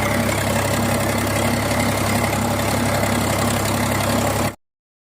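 A tractor engine idles steadily with a deep, even rumble close by, running continuously for about four and a half seconds and then cutting off into silence.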